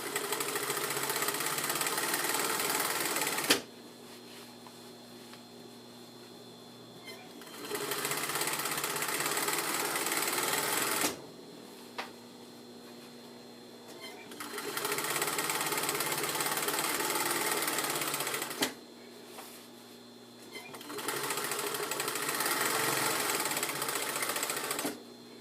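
A sewing machine stitches a jabot pattern in fabric, running in four steady bursts of several seconds each with quiet pauses between them where the work is lifted and turned.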